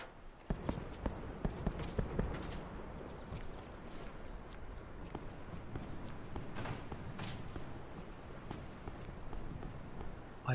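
Footsteps in the Call of Duty Black Ops 4 Blackout game sound as a run of quick, light thuds over constant background noise, clearer early on and fading under the ambience later.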